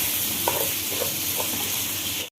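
Koshari grains are stirred and toasted in a hot pan, giving a steady close sizzle and hiss with soft scraping stirs, loud and continuous.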